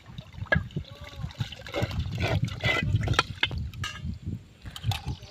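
Fish are rinsed by hand in water, with splashing, trickling and sloshing close by in uneven bursts, and a voice talks briefly over it.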